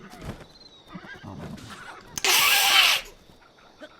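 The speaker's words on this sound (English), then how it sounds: "I hear a horse." A horse in the video game The Legend of Zelda: Breath of the Wild gives a loud, close whinny lasting under a second, set among faint game sounds and soft rustling.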